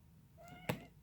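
A single short, quiet cat meow rises briefly over a faint indoor background, with no voices.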